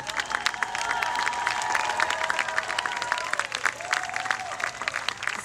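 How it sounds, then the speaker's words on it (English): A crowd at a justice rally applauds community leaders and activists, dense clapping with scattered cheers and whoops, several voices briefly rising above the sustained applause. "But I want a big round of applause for our community leaders, our community activists."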